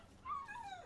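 A dog whimpering in the game Destiny 2, a single faint, high, wavering whine that rises and then slides down, brief and alone.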